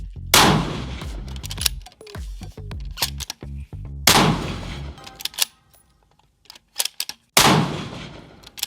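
Three loud precision rifle shots fired through a muzzle brake beneath a metal canopy, spaced a couple of seconds apart, each a sharp concussive blast with ringing reverberation and scattered metallic clinks between.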